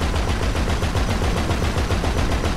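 Continuous rapid automatic gunfire in GTA V Online, loud and close, steady throughout with no pauses.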